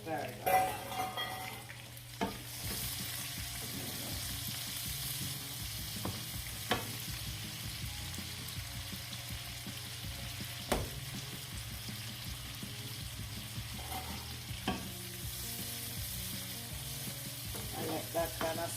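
Shallots and asparagus sauté in a pan, a soft continuous sizzle with occasional stirring clicks and scrapes, fairly quiet and close.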